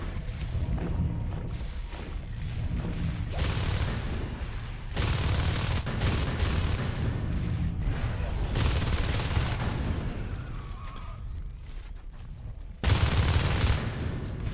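Shotgun fire in the sci-fi shooter Natural Selection 2: loud, dense bursts of blasts and combat noise keep going almost nonstop, with sharper bursts around the middle and a final surge near the end.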